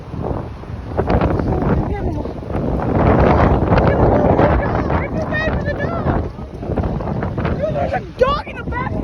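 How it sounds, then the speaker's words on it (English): Strong gusting wind of a massive dust storm in Spokane buffeting the microphone in loud, uneven roaring blasts, with a person talking excitedly throughout. "This storm's massive."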